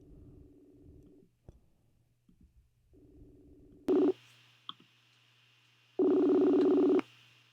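A phone line rings twice, each ring a long buzzy tone about a second long with a pause between, after some soft dial-like blips. Nobody speaks.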